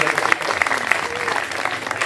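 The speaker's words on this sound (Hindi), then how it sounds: "रचना जी की कविता के लिए आप मन बनाना जोरदार ताली" Loud, continuous audience applause at a Hindi poetry recital in Meerut, steady clapping from a crowd filling the whole stretch with a few sharper claps standing out.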